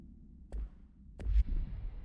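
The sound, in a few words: redacted sound effect from the video game Control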